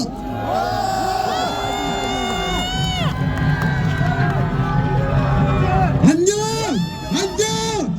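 At an outdoor student-led rally against impeachment at the Korea University main gate, a crowd cheers loudly with whoops and shouting voices over a continuous wash of noise, and sharp raised cries near the end.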